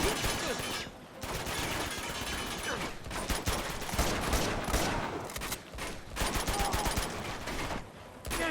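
Dense, continuous gunfire in the Uncharted 2 video game, with rapid bursts and overlapping shots from automatic weapons and a shotgun in a jungle firefight, loud and sustained throughout.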